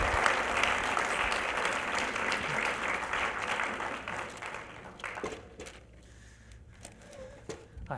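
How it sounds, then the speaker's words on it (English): Audience applause at a magic show, a full round of clapping from the crowd that thins out and trails off into scattered claps. "Ladies and gentlemen, please give David a big round of applause."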